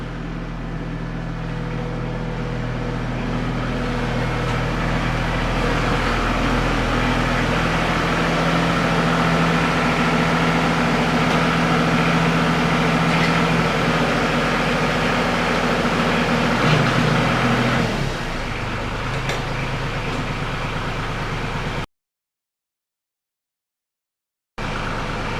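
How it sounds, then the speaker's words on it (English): An air compressor in a tractor workshop drones loudly and steadily for about twenty seconds, then shifts lower and cuts off abruptly into silence. "Apologize about crazy air compressor."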